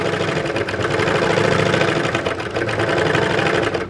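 A serger overlocks and trims the edge of a seam on a Simplicity 8613 garment, running in a fast, steady mechanical whir that holds nearly constant for about four seconds, close and loud, with no talking.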